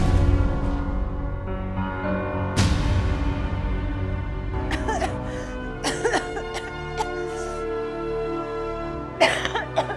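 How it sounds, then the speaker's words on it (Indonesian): Coughing in an Indonesian drama scene, a few sharp harsh bursts over a low sustained background tone, close and fairly loud, coming in irregular clusters. "Berisik banget sih pakai batuk-batuk."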